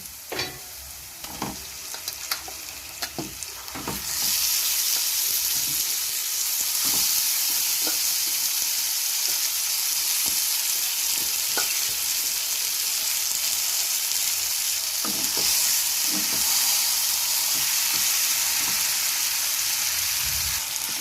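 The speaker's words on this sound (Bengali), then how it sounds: "রসুনটা আমার ভাজা হয়ে গেছে, এবার আমি যে মাংসটা মেখে রেখেছিলাম সেটা দিয়ে দিচ্ছি" Marinated mutton hits hot oil with fried garlic in a pan, bursting into a loud, steady sizzle after a few quieter seconds of scattered clinks and stirring, with occasional utensil taps over the continuous frying.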